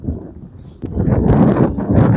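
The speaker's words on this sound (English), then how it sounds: "a little windy, but that's all right." Wind blowing over a lake while out fishing for yellow bass in a boat, gusty buffeting noise hitting the microphone in loud bursts, close and rough.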